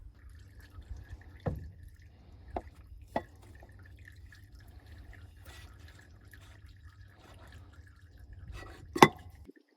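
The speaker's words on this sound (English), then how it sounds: "It's almost done dripping." Used oil drips from the drain hole of a farm machine, sparse single drops falling every second or two over a low steady hum, with one louder splat near the end.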